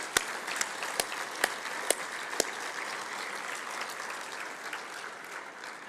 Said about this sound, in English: So a big applause, please, for the Swiss Organizing Committee.